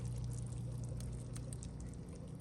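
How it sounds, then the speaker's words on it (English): Cheese sauce made with oat milk pours from a container onto cooked noodles for baked mac and cheese, giving a steady, soft liquid glug and slosh that thins out slightly toward the end. "pour in all of our cheese sauce directly into our noodles"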